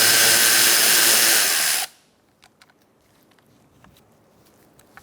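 Power driver with a T20 bit backing a screw out of a Buick Encore inner fender liner, one loud steady whir lasting almost two seconds that stops abruptly, followed by faint clicks and handling sounds.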